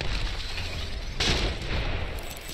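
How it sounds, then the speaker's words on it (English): A single loud blast from a grenade going off in a shooter video game, a sharp boom a little past the midpoint that rises from a steady rumble of background game noise. "Look out! Grenade!"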